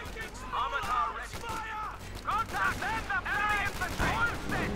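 Gunfire and combat effects from the Company of Heroes 2 strategy game, a busy dense mix of shots and battle noise running throughout, with someone commentating over it.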